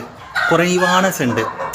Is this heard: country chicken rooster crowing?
yes